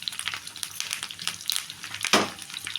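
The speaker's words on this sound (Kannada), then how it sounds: "ಕರಿಬೇವು, 2 ಒಣ ಮೆಣಸಿನ್ಕಾಯಿ, ಈರುಳ್ಳಿ ಕಟ್ ಮಾಡಿದ್ದೀವಲ್ವ ಅದು ಸ್ವಲ್ಪ ಫ್ರೈ ಮಾಡೋಣ" Curry leaves, two dried red chillies and chopped onion fry with cumin in hot oil for bisi bele bath, crackling and popping in quick irregular bursts with a sharp spatter near the end, close and fairly loud.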